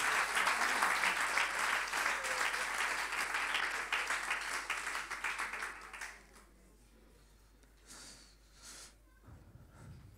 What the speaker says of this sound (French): On peut l'applaudir hein, aussi.